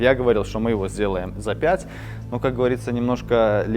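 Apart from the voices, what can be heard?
No distinct noise like a dog, phone or traffic.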